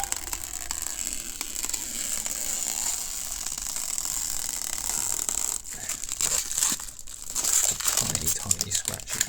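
Protective film being peeled off a custom pickguard for a cheap semi-acoustic guitar, a crinkly tearing rustle that grows louder and rougher toward the end, with a voice talking in the background.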